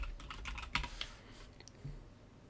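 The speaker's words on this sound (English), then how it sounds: "So let's just type in the email of Christian" Quick, light keystrokes on a computer keyboard tap out an email address in a fast burst, then thin to a few scattered clicks, close and clear in a quiet room.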